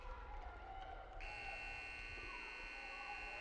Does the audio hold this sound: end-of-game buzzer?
yes